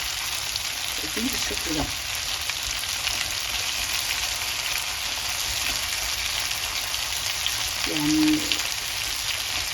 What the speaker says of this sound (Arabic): عشان البطاطس ما تاخدش سوا بحمرها